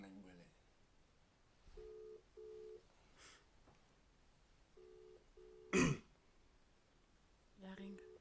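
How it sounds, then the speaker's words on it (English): Paired electronic ring tones repeat in a regular double-burst pattern through a phone line, quiet and distant, with whispered voices and a brief cough between rings. "Yeah, it's ringing."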